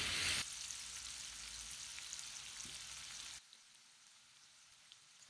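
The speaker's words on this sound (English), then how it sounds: "Add the spring onions. Saute for about 2 to 3 minutes also until they become translucent." Spring onions sauteing in a pan give a faint, steady sizzle with a soft hiss that drops away quieter near the end.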